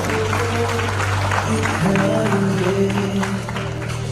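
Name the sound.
audience applause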